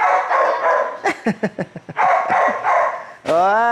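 A dog barks in a quick run of sharp, close barks, then lets out a higher whine, with people talking nearby throughout.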